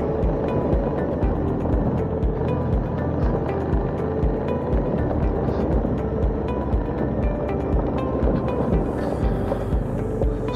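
A Suzuki V-Strom adventure motorcycle rides steadily, its engine a continuous loud drone with wind rush throughout and no speech.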